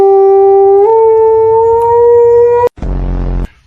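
A white dog gives a long, loud, steady howl right at the microphone, one sustained note that rises slightly before breaking off, then a short harsh rumbling vocal burst to finish.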